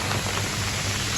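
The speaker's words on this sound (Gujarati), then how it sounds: "આ ટાઈપનો વરસાદ પડે છે" Steady rain falling outside homes, a continuous soft broadband hiss with no distinct drops standing out, moderately loud and unbroken throughout.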